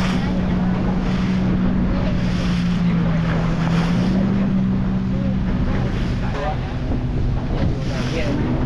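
A speedboat motors across open sea off Pattaya Beach, Thailand, its engine droning steadily under constant wind buffeting and water rush, loud and close throughout.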